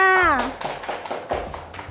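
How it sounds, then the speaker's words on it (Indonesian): A class of young schoolchildren claps, a burst of irregular hand taps following a brief voice, continuing close by with uneven rhythm. "Iya, hebat, tepuk tangannya"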